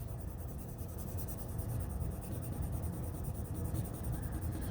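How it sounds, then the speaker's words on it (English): Graphite pencil held on its side shading across paper, a soft continuous scratchy rasp with faint back-and-forth strokes, close and quiet, no talking. "because I'm using my pencil on the side,"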